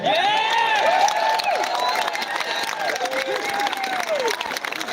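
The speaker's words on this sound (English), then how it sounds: "can we get a huge round of applause for Nick Patterson?" A crowd applauds and cheers for Nick Patterson, with steady clapping across the whole stretch and rising, whooping voices ringing out above it, loud and close throughout.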